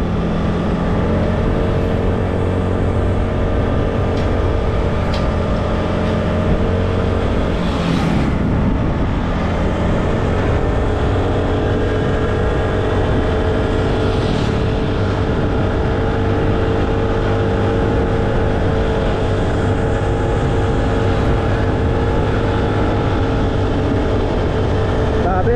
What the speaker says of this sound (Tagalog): Bilis pa rin ito ha. Mio Sporty 2018 na model.